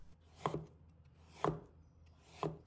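Pumpkin sliced with a knife on a cutting board, three distinct, evenly spaced chops with crisp thuds, close and quiet against a silent background.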